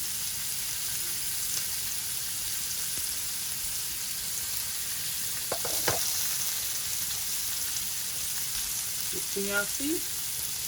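Lamb chops fry and sizzle on a grill in a steady close hiss, with a few brief clanks of handling and a short spoken question near the end.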